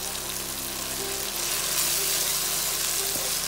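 Softened tomatoes and keema mince sizzle and crackle in a hot pan, a steady, dense frying hiss that runs close and continuously throughout.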